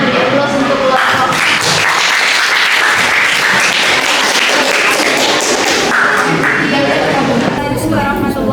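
Classroom applause for a student group during a chemistry open class: steady, close, energetic clapping from many hands filling the room, with some voices mixed in underneath.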